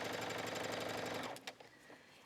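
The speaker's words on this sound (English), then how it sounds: "All right, I'm just going to stitch around." A sewing machine stitches around the sleeve of a sweater jacket with a fast, even mechanical whir for over a second, then stops, leaving a few faint clicks and soft handling sounds.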